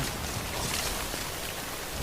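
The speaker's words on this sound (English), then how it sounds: "wait out the rain over there." Rain pours steadily in the video game Death Stranding, a dense, even wash of falling drops with no breaks and no voices.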